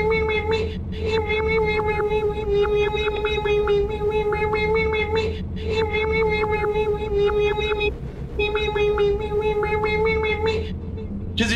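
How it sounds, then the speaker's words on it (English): Synthesizer playing a sustained, tonal, slightly vocal-like patch with wavering pitch, pausing briefly every few seconds, loud and close with a hint of echo and a faint voice underneath. "Does your synthesizer sound like this?"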